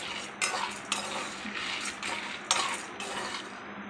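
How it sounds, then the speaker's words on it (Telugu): Cumin, chana dal, dried red chillies and coriander seeds being stirred in a metal pan, with steady scraping and clinking of a spoon against the pan and a faint underlying hiss, close and continuous with no talk. "జీలకర్ర, శనగపప్పు, ఎండుమిర్చి, ధనియాలు వేసేసి ఫ్రై చేసుకోవాలండి."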